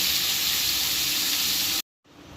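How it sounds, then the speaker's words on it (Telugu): Onions frying in a pan for a Telugu taro curry give a steady, loud, bright sizzle that cuts off abruptly near the end before briefly resuming. "ఉల్లిపాయలు వేసి వేయించుకోవాలి"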